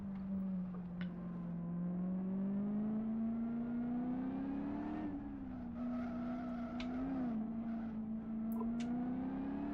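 A race car engine in the video game Live for Speed drones and revs continuously, its pitch rising and dipping as it accelerates and shifts, steady and fairly loud with no talk.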